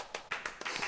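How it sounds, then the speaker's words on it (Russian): A short, faint spatter of applause in a film scene: a handful of separate claps over about a second. "Аплодисменты."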